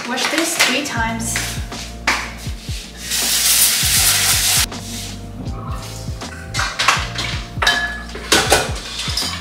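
Uncooked rice is swished and rubbed inside a metal pot during a quick Thai red curry chicken dinner, giving repeated scraping, grainy rasps and clinks of metal, close and loud in uneven bursts with brief pauses.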